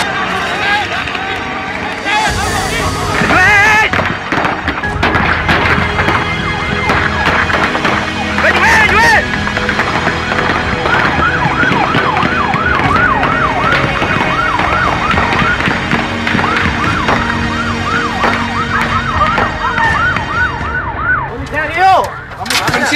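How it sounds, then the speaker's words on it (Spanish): An ambulance siren wails loudly and steadily in repeating rising and falling sweeps, with voices talking underneath. "¡Ambulancia!"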